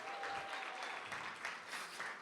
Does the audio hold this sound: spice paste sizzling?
no